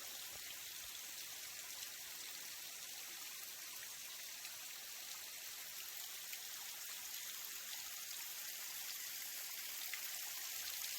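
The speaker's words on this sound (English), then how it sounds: "Not the most impressive waterfall by any means" A small waterfall feeding a flowing stream in a park along the Natchez Trace makes a steady, even hiss of running water that carries on at low level throughout.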